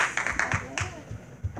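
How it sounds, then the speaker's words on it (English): A church congregation claps in a quick series of sharp, close hand claps during a service, mixed with voices talking. "Give them a hand clap, amen."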